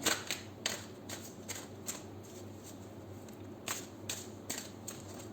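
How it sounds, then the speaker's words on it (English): Cards being shuffled up close, repeated crisp riffling bursts at an uneven rhythm with soft handling noise between them, no voices. "Alright, 7 shuffles done."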